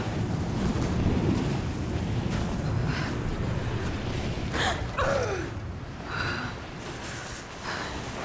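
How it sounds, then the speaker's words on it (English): Strong wind roars steadily across a mountainous outdoor scene in the Rise of the Tomb Raider game, a loud broadband rush with gusty swells and occasional faint in-game effects over it. "God, the wind."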